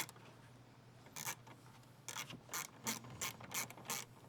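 A ratchet tightens down a billet battery tie-down on a Toyota, giving a quiet run of separate clicking bursts that come irregularly and then faster toward the end, close up and with no speech.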